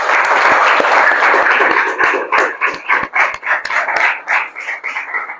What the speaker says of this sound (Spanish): agradecer si recibimos al doctor con un fuerte aplauso